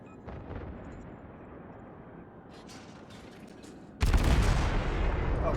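Naval artillery bombardment in World of Warships: faint rumbling gunfire and booms for several seconds, then a sudden loud burst of heavy fire that stays dense and strong to the end.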